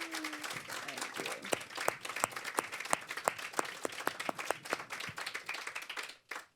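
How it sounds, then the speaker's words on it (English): An audience applauds at a photography talk event: a burst of clapping from a modest crowd, sharp individual claps standing out close by, sustained for several seconds before cutting off abruptly. "A warm applause for Lebohang Kganye."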